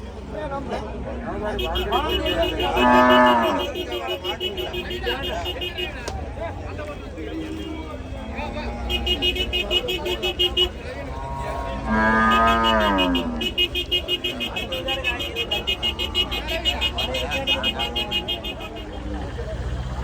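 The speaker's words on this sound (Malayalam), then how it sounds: "ഇത് വലിയ പശുണ്ട്" Cattle moo in loud, drawn-out calls at a couple of moments over a steady babble of voices and crowd noise at the Pollachi livestock market, with people talking throughout.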